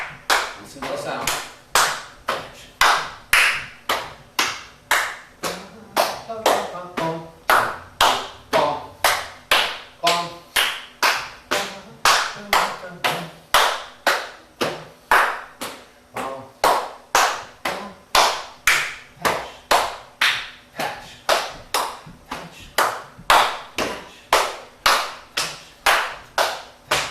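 A long run of thigh patting and hand clapping in a repeating body percussion groove, dozens of close, crisp strikes at a brisk even pulse, with a voice briefly heard speaking underneath partway through.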